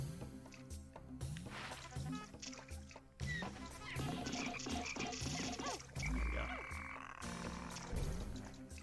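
Frog-like croaking from a creature in the GameCube game Pikmin, repeated bursts over background game music and effects, moderately loud throughout.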